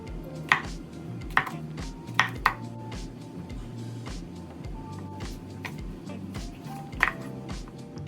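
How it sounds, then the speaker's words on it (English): Vegetables for kebabs being cut on a board with a knife, producing a series of distinct chops at an irregular pace that are close and clear, with quieter cutting between them. "Now let's cut the rest of our vegetables."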